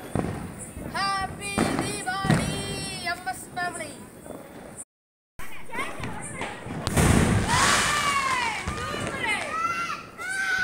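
Diwali firecrackers pop and burst in sharp, broadband cracks while voices chatter and shout nearby.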